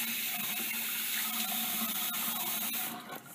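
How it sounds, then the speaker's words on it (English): Warm water runs from a tap for hand washing, a steady close splashing stream with faint clicks and trickles that starts to tail off at the end, no voices. "Turn on water. Make sure it's warm and wet hands."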